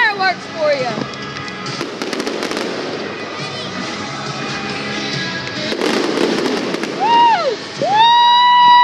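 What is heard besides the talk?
fireworks display at Greenville Drive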